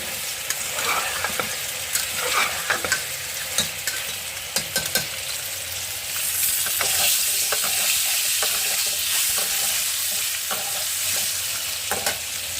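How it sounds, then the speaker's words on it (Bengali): Egg and potato curry with green chillies sautéing in a pan, tandoori style, with a steady broadband sizzle and frying hiss throughout, punctuated by sharp scrapes and clacks of a spatula stirring, close and fairly loud, no talking. "এখানে কষানোর কাজটা চলছে দেখো এখানে আমি কাঁচা লঙ্কা দিয়ে রান্নাটা করছি"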